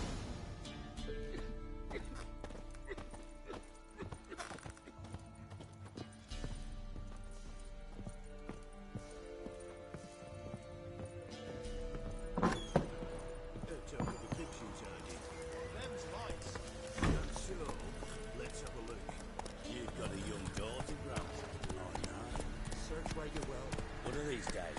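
Geralt's horse Roach gallops in The Witcher 3, a rapid rhythmic drumming of hooves carried over game music and ambient sound, mid-distance and fairly steady, with voices speaking over it.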